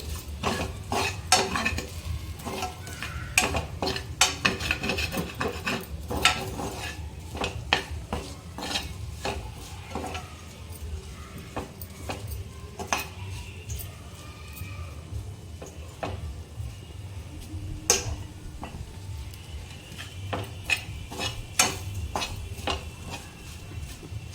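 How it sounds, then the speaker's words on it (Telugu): A spoon stirs chicken kandanakaya in a pan over the heat, a steady run of metallic scrapes and clinks against the pan under a soft sizzle that continues throughout. "జస్ట్ 1 స్పూన్ అంతే కలిపేసి"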